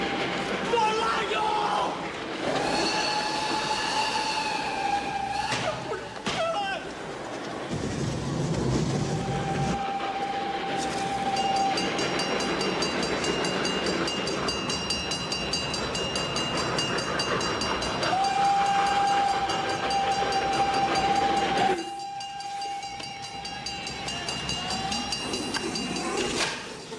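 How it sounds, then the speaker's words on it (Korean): Train approaching on rails, with sustained rumble of railcars, whistle-like tonal tones and horn blasts rising over a steady loud bed, with voices speaking over it. "열차가 점점 다가옵니다."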